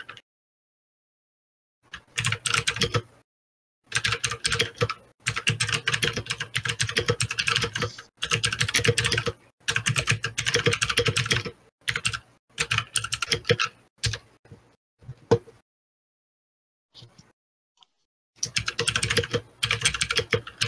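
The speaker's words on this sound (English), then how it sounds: "Mechanical keyboards click all the time." Rapid clicking bursts of typing on a mechanical computer keyboard come in close, dense runs separated by short silent pauses, with no speech.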